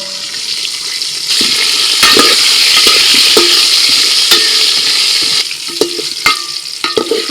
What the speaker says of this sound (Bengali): আলুর মধ্যে একটু লবণ হলুদ দিয়ে নাড়াচাড়া করে একটু ঢাকা দিয়ে দিলাম যাতে আলুটা ভালো করে ভাজা হয়